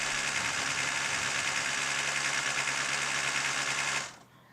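The number 8 race car's engine at the 2016 6 Hours of Silverstone, overheating with smoke in the cockpit, runs as a loud, steady, buzzing drone up close, then cuts off abruptly near the end, leaving quiet.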